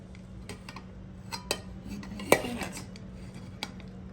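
Metal spoons and dishes clatter in a home kitchen while biryani is served, with sharp scattered clinks and knocks, one louder strike near the middle, over a low steady hum and no talk.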